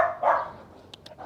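A large Caucasian Ovcharka gives a few short, fairly close barks and yips, quick separate bursts over a quiet outdoor background.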